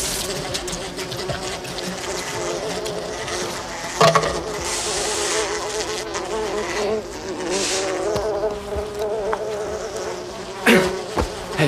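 Swarm of bees buzzing as they are being smoked out, a dense, continuous droning hum with rising and falling intensity and occasional sharper knocks, under faint background voices.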